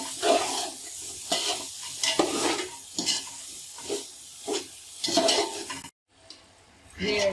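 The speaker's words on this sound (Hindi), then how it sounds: "अब 5 मिनट के लिए इनको फ्राई करेंगे।" Carrots frying in a pan for vegetable Chinese fried rice, a steady sizzle with bursts of stirring and scraping about once a second, close and fairly loud, a brief near-silent gap, then more frying.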